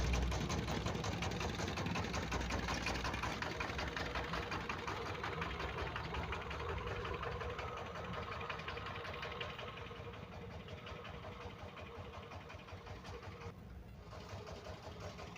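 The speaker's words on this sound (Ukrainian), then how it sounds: "Ось у нас там мотоблок 10 сильний, дизельний" A homemade 10 hp diesel walk-behind tractor engine drives a generator in a steady, dense running drone. It stays fairly close and continuous throughout, with no voices.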